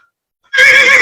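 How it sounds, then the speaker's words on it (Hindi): A horse lets out a single loud, close whinny that bursts in halfway through and holds strongly to the end, with nothing else heard. "उछल उछल कर घोड़े हिनहिना रहे हैं।"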